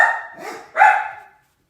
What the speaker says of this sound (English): there's somebody walking their dog outside.